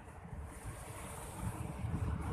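Steady wash of sea waves rolling onto an eroding beach at Matang Puntong in Seunuddon, North Aceh, a continuous rushing surf roar mixed with wind buffeting the microphone, building slightly louder toward the end.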